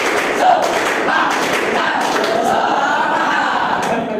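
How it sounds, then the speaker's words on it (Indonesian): Schoolchildren run through another round of the 'tepuk semangat' spirit clap, a dense mix of group clapping, thuds and voices in a classroom, steady and fairly loud throughout. "Silakan tepuk semangat."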